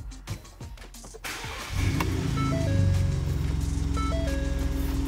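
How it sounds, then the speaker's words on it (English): A 2011–2018 Ford F-150 pickup truck cranks and its engine starts after a performance programmer install, a brief starter whir giving way to a steady, loud idle with a faint chime, heard up close. "you'll want to start the vehicle"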